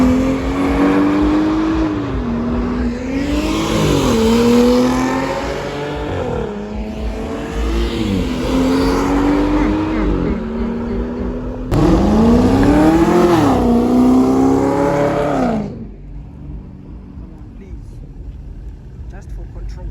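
BMW cars at a South African car meet revving hard, engines rising and falling in repeated loud surges, one after another, before the noise drops away, with crowd chatter underneath.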